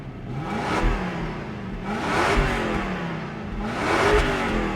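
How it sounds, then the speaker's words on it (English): A Toyota Crown Majesta engine revs up three times in slow swells, each rise and fall smooth and fairly subdued, with a soft, muted exhaust note. "that might be the most quiet exhaust I've ever heard"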